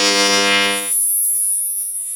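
Steady buzzing hum of a TIG welding arc laying a pass on a cast aluminum repair, loud and close, with a bright harmonic whine that drops away after about a second while a high hiss continues.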